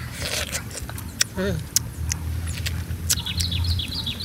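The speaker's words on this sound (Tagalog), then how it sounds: "may mga ibon pa. Background." Birds chirp in the background outdoors in Sorsogon province, Bicol, with brief, fairly faint calls and a short twittering run near the end, under ongoing talk and low ambient rumble.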